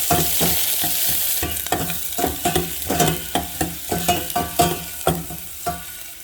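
Chicken and beef sausage fry in a pan, a constant sizzle broken by a regular series of sharp scraping stirs from a spatula, close and fairly loud, with no talking.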